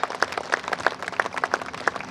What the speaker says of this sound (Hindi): मैं चाहता हूं उनके लिए भी एक बार जोरदार तालियां आप सब लोग बजाएं।